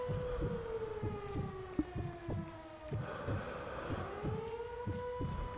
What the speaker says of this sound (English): Let's get this siren.